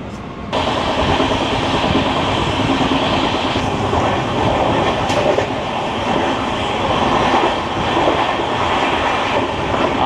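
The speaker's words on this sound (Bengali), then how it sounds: "আমাদের ট্রেন পেরিয়ে গেল চন্দননগর স্টেশন।" The 13053 Kulik Express runs on its rails near Chandannagar station, heard from inside a Vistadome coach on a monsoon journey, a loud continuous rumble with rhythmic wheel clatter throughout.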